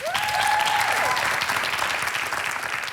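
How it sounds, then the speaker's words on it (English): Studio audience applauding together, a dense, steady clapping that holds for a few seconds, loud and full, with a few cheers at the start. "Can you give them all a round of applause?"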